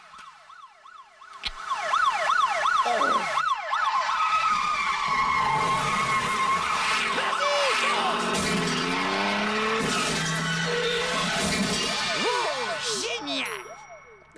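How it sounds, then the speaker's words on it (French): A car chase plays on a television, with wailing sirens sweeping up and down, squealing tires and clanging impacts layered into a loud, busy stretch lasting over ten seconds, while a voice briefly exclaims. "Tu es en train de regarder la chaîne des poursuites en voiture?"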